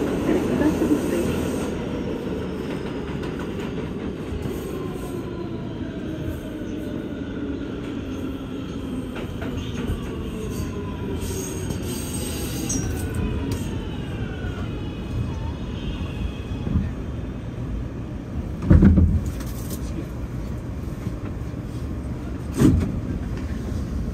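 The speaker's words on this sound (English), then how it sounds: "This is a 168th Street bound C local train." A New York City subway train, an R211T car on the C line bound for 168th Street, rumbling along the tracks, with thin metallic squeals gliding in and out and a couple of sharp clanks near the end.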